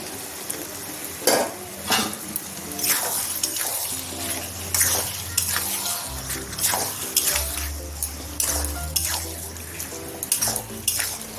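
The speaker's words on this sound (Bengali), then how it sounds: "এই যে চিকেনটা সব মশলা মাখিয়ে রেখেছি, দিয়ে দিচ্ছি" Spice-marinated chicken hits a hot pan with fried onions with a loud sizzle, followed by repeated scraping and stirring strokes against the metal over a steady frying hiss. No talking.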